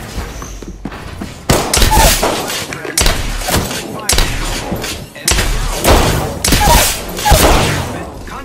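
Gunfire and explosions in the video game Apex Legends, a frag grenade among them, come as several loud close bursts and heavy thumps in a rough rhythm, with voices in between.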